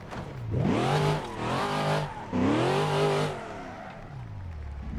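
A rough, powerful American Chevrolet sedan pulls into the pit box, its engine revving up and down in two rising and falling surges before dropping to a low, steady rumble.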